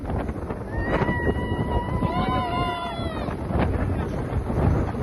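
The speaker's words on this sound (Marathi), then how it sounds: "बघा खूप वारा आहे इथे" Steady roaring wind buffets the microphone near the summit of Manikgad fort, with a few faint, sustained whistling tones rising above the rumble in the middle.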